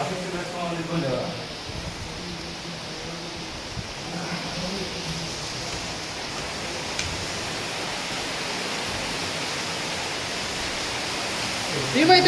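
Steady rain falls outside a hostel as a continuous, even hiss, with a voice speaking briefly near the start.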